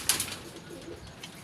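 A Kaldumba Teddy pigeon coos softly up close, with a brief burst of flapping wings at the start of the short moment.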